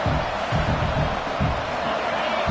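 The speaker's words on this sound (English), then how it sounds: "Listen to the crowd energy here in the early going." Stadium crowd noise from the NCAA 26 college football video game, a steady dense roar of many voices with low rumbling swells, early in a game in a tough road environment.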